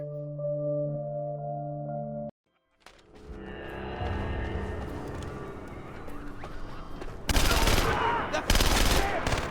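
Rapid bursts of automatic gunfire in the video game Splinter Cell Conviction, loud and close, erupting after a short musical tone and a brief silence, with heavier volleys toward the end.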